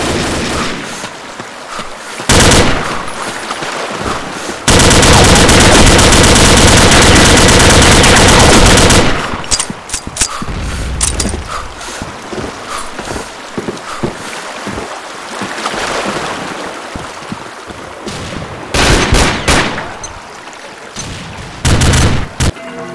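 M16 rifle fire in a video game: long sustained bursts of automatic gunfire and rapid strings of shots, loud and close, separated by brief pauses and quieter stretches.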